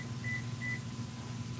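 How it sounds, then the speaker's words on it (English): A microwave oven gives two short, clear beeps in quick succession over a steady low room hum, with no one speaking. "Now I'm hearing weird beeps."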